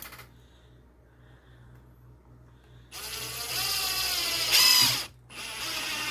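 A power tool drives a screw into part of a wooden storage box, buzzing with a ratcheting, mechanical whine in two near bursts after a quiet start, with a short pause between them.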